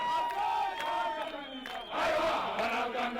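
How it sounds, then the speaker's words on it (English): A huge crowd at an anti-Mugabe rally in Harare cheers and shouts, its roar dipping briefly and then surging louder near the end, with whoops and tonal cries over the din. "A crowd this big was last seen here at Independence, then welcoming Robert Mugabe."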